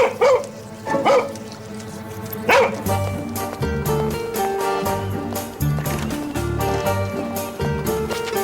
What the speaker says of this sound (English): Stray dog.